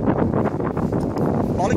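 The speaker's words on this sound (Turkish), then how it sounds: "Rüzgar var." Seaside wind buffets the microphone in gusty, rumbling bursts throughout, heard close and loud, with a voice talking under the blustering noise.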